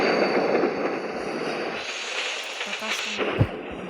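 A freight train rumbles through a sharp curve with a steady roar of wheels and cars, thinning out partway through as scattered clanks and a sharp bang stand out near the end.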